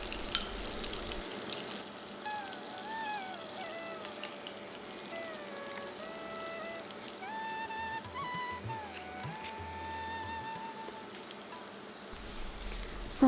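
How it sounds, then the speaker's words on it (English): Onions, garlic and ginger sauté in melted vegan butter and oil in a heated pan over medium heat, giving a steady, moderate sizzle throughout with a thin wavering whistle-like tone above it and no talking. "Saute on medium heat for 2 to 3 minutes until the onions are translucent."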